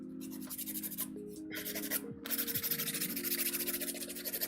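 Fingernails are filed with a nail file in close, steady rubbing strokes, scratchy and fairly quiet, with a faint musical tone running underneath.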